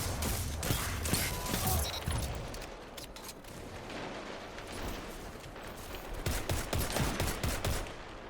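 Rapid gunfire rattles through a video game gunfight with a throwing knife and Waking Vigil in play, bursts of automatic shots layered over continuous battle noise for the whole stretch, loudest near the start and end.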